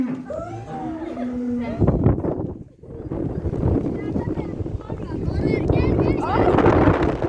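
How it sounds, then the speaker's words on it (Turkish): Wind buffets the microphone in loud rumbling gusts on a village visit to cows, with people talking throughout. "Evet arkadaşlar çok rüzgarlı bugün."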